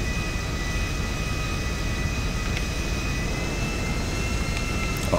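Nimbus private luxury jet in GTA 5, engines roaring steadily with a broad rumbling whine and a faint high tone, loud and constant throughout.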